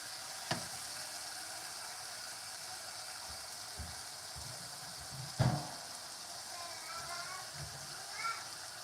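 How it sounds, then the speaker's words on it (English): Bacon fries in a pan with a steady, soft, close hiss of sizzling fat, broken by a couple of sharp clinks and small knocks while someone speaks quietly nearby. "And this is the bacon going in."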